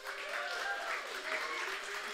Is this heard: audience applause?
yes